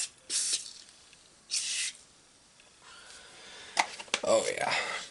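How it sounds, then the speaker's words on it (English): Carburetor cleaner sprays onto a Tecumseh small-engine carburetor in short hissing bursts, two clear blasts followed by quieter spritzes and handling noises, close and fairly faint. "here, we're going to use some of the spray stuff."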